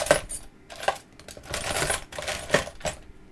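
Chunky metal Allen keys clink and rattle in a few short bright bursts at close range, a workshop jangle with brief pauses between handlings.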